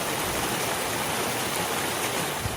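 A mountain stream in the Goat Rocks Wilderness on the Pacific Crest Trail in Washington, rushing in a steady, loud, broadband wash of flowing water with no voices.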